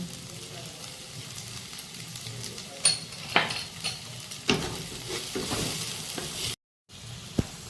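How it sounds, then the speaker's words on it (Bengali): Spices sauté in a pan for palak paneer with a close, steady sizzle, with scattered scrapes and clinks from a stirring utensil against the pan and a brief break near the end. "হলুদ দেব, দিয়ে ভালো করে কষিয়ে নেব।"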